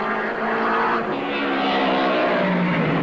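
1957 Formula 1 race cars, including Ferraris, roar past at the Nürburgring German Grand Prix, a loud, continuous engine snarl with a shifting pitch that swells and fades over a few seconds, with no voices.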